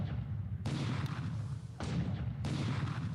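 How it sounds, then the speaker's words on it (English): Battleships shelling a target in the War in the Pacific video game: three heavy booming salvos, each a sharp loud blast that rolls off into rumble, spaced about a second apart. "our battleships here, the Resolution is coming in for a bombardment"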